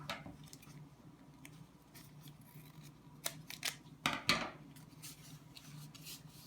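Scissors cut decorative paper in a few close, crisp snips and rustles, the loudest ones clustered near the end, with quiet handling in between.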